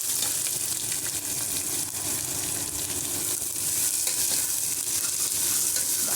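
Green chili and onion fry in oil for chicken gravy, a loud, continuous close sizzle with faint stirring scrapes throughout.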